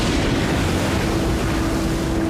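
Storm-driven sea waves around a boat make a dense, constant roar and wash with wind noise, loud and unbroken, with a faint steady hum underneath.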